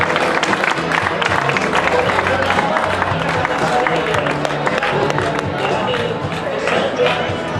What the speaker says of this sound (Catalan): I un aplaudiment per ella.